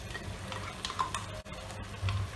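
A spoon stirs cream into a thick shahi paneer gravy in a pan, giving soft close scraping and a low simmering sizzle over about two seconds.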